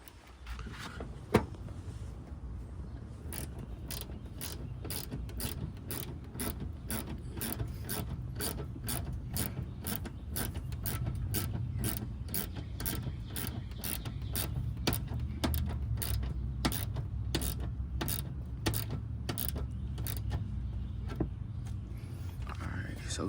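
Bumper pins and screws being fitted back onto a Chrysler 300, a long run of quick, regular ratcheting clicks over a low steady hum, close and fairly quiet.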